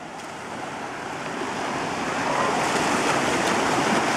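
Ocean surf rolls steadily onto a shore, a broad continuous wash that swells louder through the clip, with some wind buffeting the microphone and no talk.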